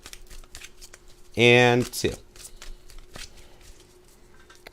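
Tarot cards being shuffled by hand, a brief papery riffle and soft slapping close by, with someone speaking briefly in the middle.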